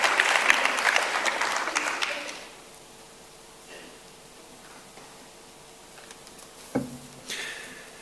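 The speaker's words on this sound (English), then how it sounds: "A round of applause, please, for these incredibly important members of our community." An awards ceremony audience applauds for the first two seconds or so, a dense clapping patter, before it fades to a quiet room with scattered small noises and a brief thump.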